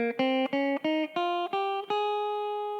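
Clean guitar picks single notes up a major scale, six distinct plucks in even succession, the last left ringing out and fading, close and clear with no talk.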